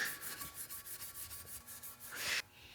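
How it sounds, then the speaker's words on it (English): Rapid rhythmic scrubbing of a gray Scotch-Brite pad sanding a car wheel, steady back-and-forth strokes up close, ending with a brief harsher rub. "One wash with the gray Scotch-Brite and you've got it all sanded down"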